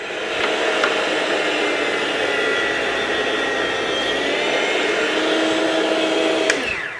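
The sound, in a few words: electric meat slicer slicing meat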